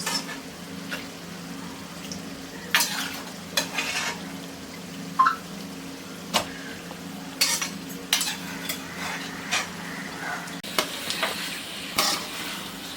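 Mutton is stirred with masala in a pan, giving repeated scraping and clattering strokes over a low, steady sizzle that goes on throughout.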